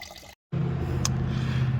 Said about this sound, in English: unscrew your coolant reservoir to let it drain fully